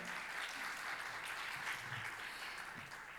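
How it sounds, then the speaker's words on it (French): Audience applause for a speaker at a plenary session on the hydrogen industry, a steady, fairly soft wash of many hands clapping that holds at an even level throughout, with no one speaking over it. "On l'applaudit, s'il vous plaît"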